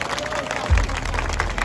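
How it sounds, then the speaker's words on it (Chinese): A crowd at a temple procession festival gives a brief round of applause, a steady wash of clapping and murmuring under a speaking voice. "掌声再次掌声来鼓励"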